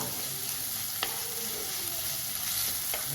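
Crushed ginger and garlic sizzle steadily in a hot pan for a chili fish curry, a constant fry hiss broken by a few light scrapes and clicks from stirring, with no talking.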